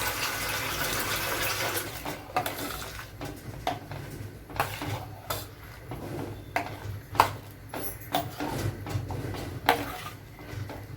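Water is poured into an egg curry masala in uneven splashing bursts, with the liquid gushing and trickling on and off at close range.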